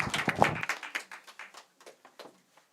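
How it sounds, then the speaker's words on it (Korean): A church congregation at a Sunday worship service claps for a birthday: a brief, quiet burst of applause that thins into a few scattered claps and fades out. "우리 이번에는 생일 축하합니다 하는 박수를 해주시면 좋겠어요"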